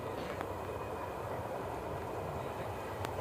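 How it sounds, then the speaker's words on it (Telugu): A train approaching a station platform where many people are waiting, heard as a steady, fairly loud broadband rumble and roar that fills the whole clip with no talking. "అదిగోండి ట్రైన్ వస్తుంది"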